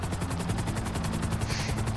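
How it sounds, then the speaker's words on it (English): A helicopter in the video game Grand Theft Auto V Online beats steadily with a rapid, even rotor chop, loud and continuous throughout, mixed with game sound effects. "Where can we land our helicopter?"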